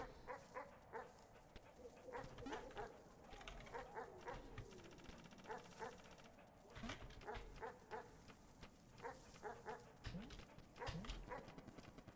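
Dog sounds from the video game Animal Well, a series of short yips and whimpering barks repeating through the stretch over a steady game soundtrack, with voices talking on and off.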